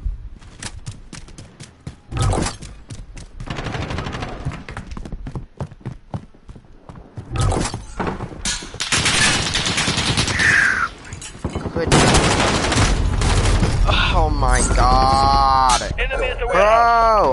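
Rapid gunfire bursts and single shots from the video game Call of Duty Modern Warfare, loud and close, with overlapping explosions and game effects while a player talks over the action.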